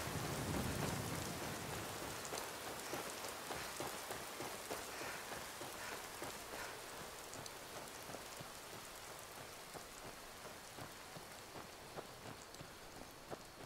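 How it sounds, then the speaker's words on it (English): Steady rain falls in Falkreath in Skyrim, a dense, even hiss with scattered drops and a low rumble of thunder near the start. "I do love Falkreath in the rain"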